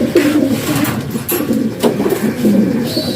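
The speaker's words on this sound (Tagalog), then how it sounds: "Napakagandang ibon no." A dove coos steadily, soft low hooting notes repeating in a continuous rhythm close by, with a faint engine hum in the background.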